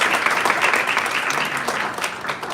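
An audience applauds a priest after his talk at an education event on dialogue with creation, steady sustained clapping from a crowd filling the whole moment, fairly close and even.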